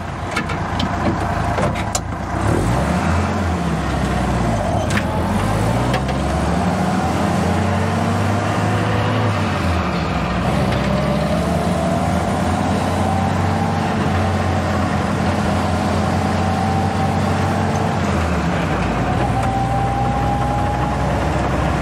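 A car engine idles steadily throughout at close range, a continuous low rumble with a slowly wavering pitch and a slight unevenness to its idle speed, with no talking.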